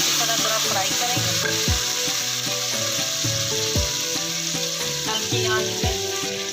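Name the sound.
frying chillies, turmeric and salt in a pan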